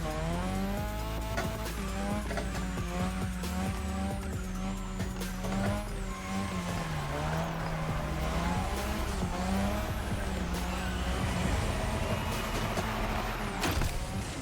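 A car engine in The Crew Motorfest, driven with a Fanatec wheel, revs and wavers in pitch through a long drift, with tires squealing over the steady loud drone of the game audio.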